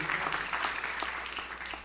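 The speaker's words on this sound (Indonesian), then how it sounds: "Tepuk tangannya paling meriah buat Yesus." A church congregation claps during a sermon, producing a steady wash of applause that fills the room and tapers slightly toward the end.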